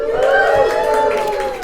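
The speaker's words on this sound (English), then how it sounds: "That is a good, enthusiastic crowd." Enthusiastic live audience at an evening fiction reading, a steady swell of cheering and whooping voices that holds loud through the moment and tapers slightly at the end.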